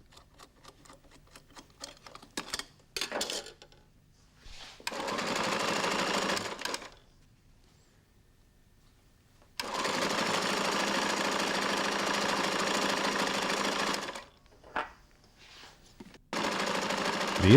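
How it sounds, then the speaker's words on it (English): A speed binder sews carpet skirting strips and corner pieces in loud, sustained mechanical runs of several seconds, separated by quiet gaps. "The speed binder sews about 3 to 4 metres of skirting strip in a minute, about 200 metres an hour."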